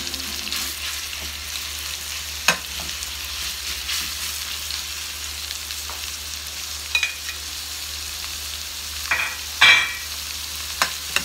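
Pork sizzling and frying in a hot pan for Thai pork basil, a steady crackling hiss with occasional stirring scrapes and clatters, close and fairly loud throughout.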